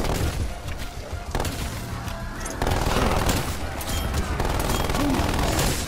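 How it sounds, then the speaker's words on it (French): Automatic turret in the video game Contagion firing a steady, rapid stream of gunshots, loud and close, continuing throughout alongside other game noise. "Tourelle automatique déployée."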